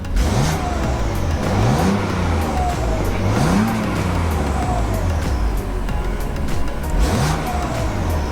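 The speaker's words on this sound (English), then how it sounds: "And now listen to how quiet it is with the exhaust flap closed." BMW M4 with JB4 tuning, exhaust flap closed: the engine revs up and settles several times in a row, each rise a smooth climbing note over a steady low exhaust drone, close and fairly loud.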